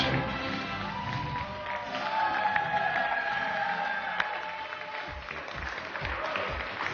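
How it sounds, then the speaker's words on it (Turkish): A small gathering of girls and their mothers claps and cheers, with scattered voices and a few louder taps over the clapping, which thins into sparse hand claps near the end. "Büyük bir alkış."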